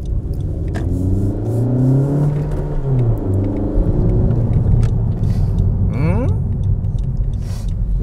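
A turbocharged FK7 car with a custom air intake drones and rumbles steadily on the road, its pitch sweeping up and down as it revs and accelerates under boost, with a whooshing rise near the end.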